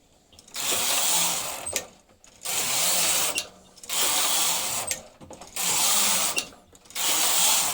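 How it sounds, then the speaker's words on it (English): A knitting machine knitting sweater rows: loud carriage passes, each a whooshing mechanical rattle lasting about a second, separated by brief pauses with small clicks, repeating about five times close up. "Just making sure it's all knitting off properly."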